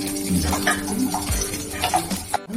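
Dried red chillies fry in hot oil in a wok, giving a busy, close sizzle with stirring clatter that runs throughout before briefly dropping away near the end.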